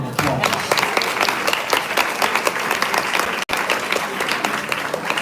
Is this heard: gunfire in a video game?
no